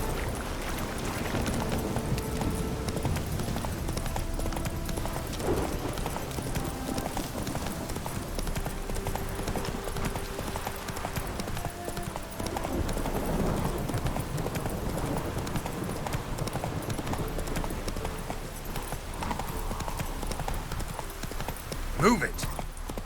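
Horse hooves clip-clop steadily at a riding pace in The Witcher 3 video game, a continuous rhythmic patter under game ambience and occasional voices.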